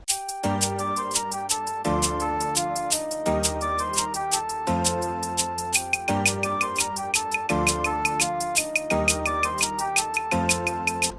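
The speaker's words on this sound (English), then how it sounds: "the next 4 bars I introduced this clap to give me another kind of bounce and rhythm" Afrobeat beat with a clap layered on top, sharp hand-clap hits locking into a steady groove alongside kick, bass and chords, loud and continuous with no talking.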